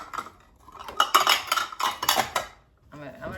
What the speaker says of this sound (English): I'm gonna try to stir each one up the best I can.